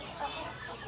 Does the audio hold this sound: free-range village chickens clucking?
yes